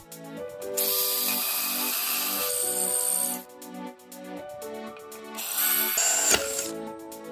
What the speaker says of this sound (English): It's a similar handy trick for drilling tiles.